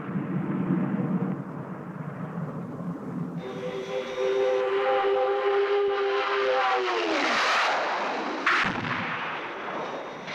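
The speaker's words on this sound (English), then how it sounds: "Open fire and make sure you miss." Staccato gunfire from a fighter aircraft making a dummy attack in a Captain Scarlet audio drama, heard over a steady engine drone with a rising whine and a sharp burst near the end.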